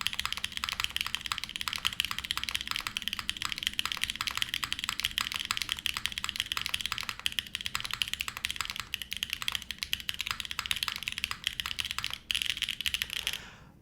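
Fast, continuous clacking of keys on a Tempo mechanical keyboard fitted with switches, fairly quiet and close, a dense even patter of keystrokes running for about fourteen seconds with no speech.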